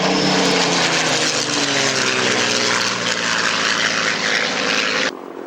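A Hawker Hurricane fighter's propeller engine roars steadily and close, with a pulsing drone that cuts off abruptly near the end.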